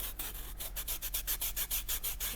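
A fingertip rubs back and forth over the edge of a shaped climbing hold, making soft, steady, rhythmic scratchy strokes about five per second, close and quiet with no voices.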